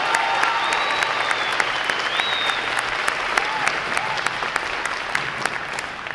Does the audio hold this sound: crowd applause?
yes